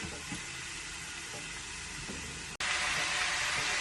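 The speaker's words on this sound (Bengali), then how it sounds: "এবার আমি এটাকে একটু ভেজে দেবো।" Cabbage frying in a pan, a soft steady sizzle with a few light stirring knocks, then a brief cut and a louder, brighter hiss as the frying intensifies; no speech.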